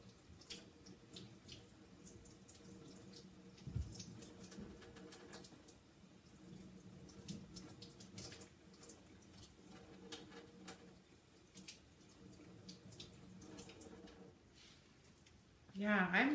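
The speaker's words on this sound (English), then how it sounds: "Let me just rinse these little letters off real fast." Tap water runs steadily as small chalk stencil numbers are rinsed at a sink, a soft continuous trickle with a voice talking over it and a louder burst near the end.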